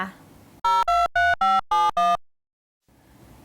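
A phone rings during a call in the game Sakura School Simulator: six short, loud electronic ring pulses in a steady rhythm, then sudden silence before faint background sound returns.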